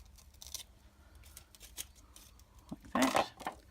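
Scissors snip the corner off a card while making a Mother's Day card, giving a few quiet close cuts followed by a louder crisp snip, with no talking.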